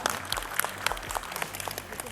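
Guests clap at a Thai wedding ceremony in 2022, a dense patter of hands close by with voices mixed in throughout.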